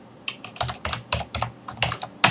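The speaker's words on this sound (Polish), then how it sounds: "i wpisujemy informację" Keys on a computer keyboard clack in quick, uneven bursts, close and clear, as text is entered into a Google Calendar task.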